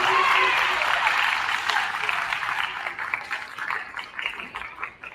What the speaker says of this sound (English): let's give our parents a big round of applause